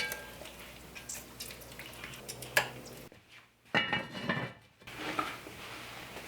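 A metal roasting pan clatters and scrapes as a pork roast is turned over, sharp clanks and knocks of pan and utensils, then a brief quieter pause before more handling, close and fairly faint.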